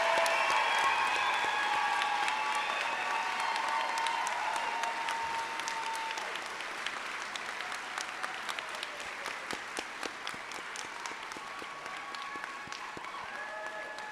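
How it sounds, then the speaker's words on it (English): Large audience applauding a graduating veterinary medicine class of 2023 at a college commencement, sustained dense clapping that gradually thins into scattered claps toward the end. "let's do one more round of applause for our class of 2023"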